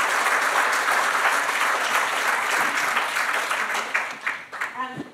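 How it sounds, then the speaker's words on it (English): A symposium audience on health, justice and ageing gives a warm round of applause, dense sustained clapping that fills the room and tapers off near the end. "would you give them a warm round of applause"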